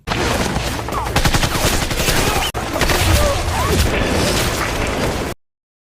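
Film gunfire exchange, dense overlapping bursts of rapid automatic shots and pops forming a loud, sustained fusillade with a brief break midway, then cutting off abruptly.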